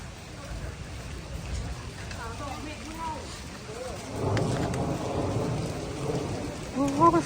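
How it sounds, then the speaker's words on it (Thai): Steady rain with a low thunder rumble underneath in cold weather at Pak Chong, while people talk intermittently close by. "ฝนตกฝนตก"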